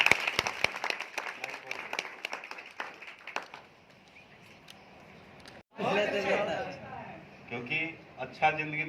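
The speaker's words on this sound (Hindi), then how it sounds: "चंदन जी के लिए भी जोरदार ताली।" An audience at a training session claps for a guest, a burst of crisp claps that fades out, then someone speaks loudly over the room.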